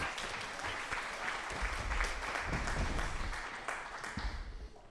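Steady crowd applause in the video game UFC 6, with scattered claps, moderately loud and continuous throughout, with faint low rumble underneath.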